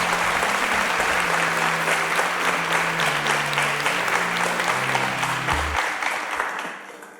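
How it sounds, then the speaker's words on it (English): A game show studio audience claps steadily for several seconds, a dense, even wash of applause that holds, then thins and fades out toward the end, with a low tone sitting underneath. "Please, a round of applause for Sigmos as he exits the stage."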